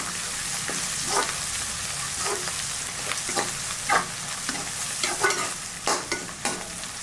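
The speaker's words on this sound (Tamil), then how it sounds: "வெங்காயம் நல்லா இந்த மாதிரி சுருண்டு வரணும், வதங்கணும்." Onions sauté in a pan for cauliflower egg podimas: a steady sizzle broken by repeated scraping stirs of a spoon, close and fairly loud, with no talking.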